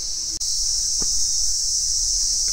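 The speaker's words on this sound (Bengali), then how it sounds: "সঙ্গে এই ঝিঁঝি পোকার আওয়াজ" Crickets in Tinchuley forest trill in a continuous high, steady chirring drone, loud and unbroken, with a brief click near the start and faint low background noise beneath.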